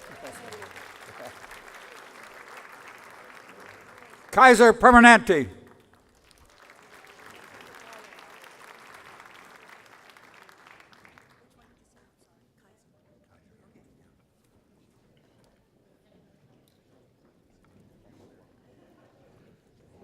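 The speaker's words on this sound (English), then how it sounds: "Little round of applause." A State of the City 2019 audience gives sponsor Kaiser Permanente a brief round of applause, steady clapping under a host's talk, with a loud burst of cheering midway before it fades out.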